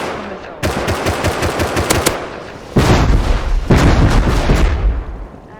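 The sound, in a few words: missile explosions in Rust video game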